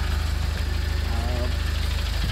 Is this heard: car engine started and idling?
yes